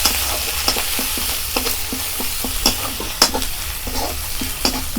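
Spice paste with turmeric and cumin powder frying in a pan while being stirred, a steady close sizzle broken by frequent scraping strokes of a spoon, no voices.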